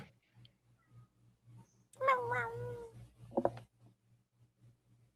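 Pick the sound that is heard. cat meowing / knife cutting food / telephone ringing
cat meowing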